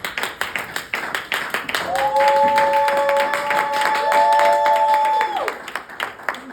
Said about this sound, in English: give her a really warm round of applause